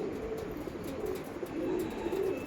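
Andhra Lalsira pigeons at a loft coo softly and repeatedly, low throaty calls rising and falling over a faint background hiss.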